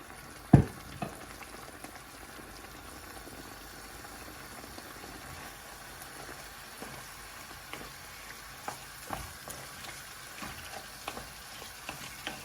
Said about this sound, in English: you just want to stir it up so that the pork can coat in that gorgeous browning